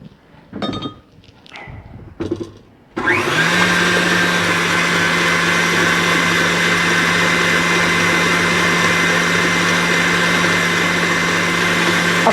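Crepe batter in a blender: a few clinks and brief bursts, then the motor kicks on and runs as a loud, steady whir for the rest of the stretch.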